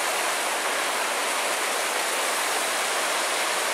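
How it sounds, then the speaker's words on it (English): Large river along the Superior Hiking Trail, near Devil's Kettle Falls, rushing in a steady, dense, close roar of flowing water with no breaks and no talk. "Well, we just made it down to our first river."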